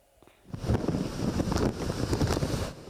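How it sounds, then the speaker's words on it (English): Waves splash against the Hong Fa Tsuen waterfront in Hong Kong as a tropical storm approaches, with wind and rain forming a loud, steady roar that swells in after a quiet start. "Waves splashing against the Hong Fa Tsuen waterfront this morning, along with rain"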